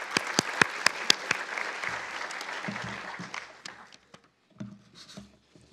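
Audience at a cultural conversations gathering clapping: a few sharp, distinct claps close by over a thinner spread of applause that fades out, followed by quieter moments with low rumbles and a few scattered sounds.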